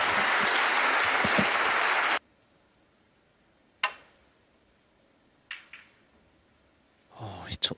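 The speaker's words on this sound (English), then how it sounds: "Well, that's worth a round of applause." A crowd at the 2021 Masters snooker match between Neil Robertson and Yan Bingtao bursts into loud applause that cuts off abruptly. Quiet sharp clicks of balls follow, and a commentator starts talking at the end.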